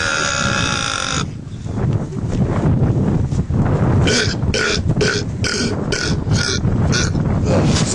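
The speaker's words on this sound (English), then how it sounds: "Somebody burp a Christmas carol." Several people let out loud, close burps one after another, long gurgling belches giving way to a string of shorter ones, with voices and laughter mixed in.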